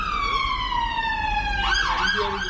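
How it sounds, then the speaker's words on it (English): An emergency vehicle siren wails loudly outside, rising and falling in a steady sweep before switching to a quicker warbling pattern, with low road rumble underneath. "And you hear the siren again"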